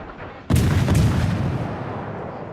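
Loud booming gunfire from a Japanese cruiser, the IJN Katori, in the naval video game World of Warships, with a sudden heavy blast and a second shot close behind, then a long rumbling tail fading out.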